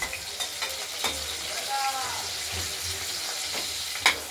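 Potatoes and tomatoes fry together in a pan of oil for a paneer fritter curry, giving a steady close sizzle with a few soft spoon clinks and scrapes, no talk.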